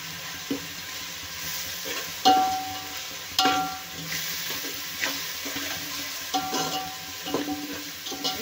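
A ground masala paste roasts in a pan for a chicken gravy, giving a continuous close sizzle broken by several sharp spoon scrapes and stirs against the metal, with no voices.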